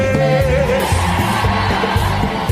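A worship congregation at a Haitian church service shouts loudly on cue, a dense and sustained wall of massed voices over steady music, with no gaps.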